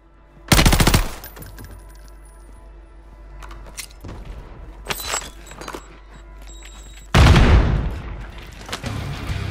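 Gunfire in a squad-based battle royale shooter video game: a loud opening burst of rapid automatic fire, scattered shorter shots in the middle, then another heavy burst near the end, with no talk.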